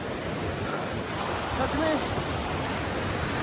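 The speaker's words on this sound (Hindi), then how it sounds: "पानी बहुत तेज़ आ रहा है" Fast-flowing mountain stream water in Uttarakhand makes a loud, steady, broad rushing roar that fills the whole moment, with a brief spoken voice over it.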